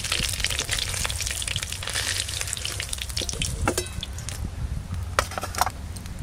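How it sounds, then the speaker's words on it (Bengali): Potatoes fry in hot oil for a fish curry, giving a steady crackling sizzle with scattered sharp pops and a few scraping stirs, close and continuous throughout. "আজকে কিন্তু মাছ রান্নাতে আমি আলু দেব, আলুগুলোও ভালো করে ভেজে নেব।"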